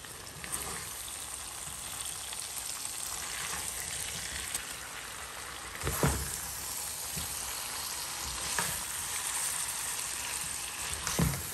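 Chilies and tomato pieces sizzle steadily in hot oil in a pan, a continuous crackling frying noise with a few louder bursts as the mixture is stirred.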